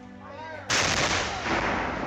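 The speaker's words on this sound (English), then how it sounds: "Lewis opened fire with large, powerful cannons, smashing Loyalist ships and wounding soldiers" A heavy cannon fires during a Revolutionary War bombardment of Loyalist ships at Gwynn's Island, one loud booming blast breaking in abruptly after a voice and rumbling on into a sustained roar.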